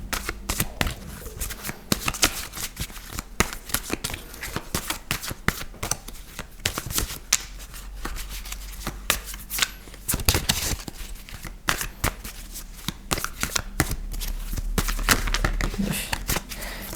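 A deck of tarot cards being shuffled up close, a dense run of rapid riffling and flicking bursts with short pauses between, fairly loud and without talk.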